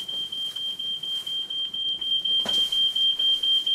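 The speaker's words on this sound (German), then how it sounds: "das ist ein Privatrauchmelder" An indoor smoke detector gives a piercing, steady high-pitched beep, pulsing in rapid regular bursts throughout, loud and close with no one speaking.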